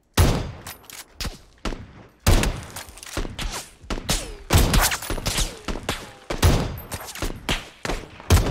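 Rapid bursts of gunfire from a Winchester rifle and other weapons in a PUBG match on the Karakin map, loud and close, with sharp shots cracking in clusters across the whole span.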